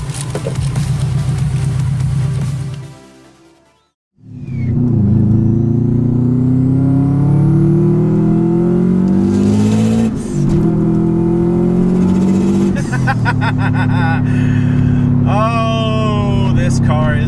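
A turbocharged 400-horsepower Subaru WRX engine revs hard and loud, cuts out briefly, then roars back up through several gear changes with rising pitch, close by.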